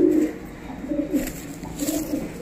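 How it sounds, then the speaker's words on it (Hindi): Sialkoti pigeons coo in soft, low repeated phrases close by, three or four gentle rolling calls over a faint background hiss. "ये सियालकोटी कबूतर है भाई"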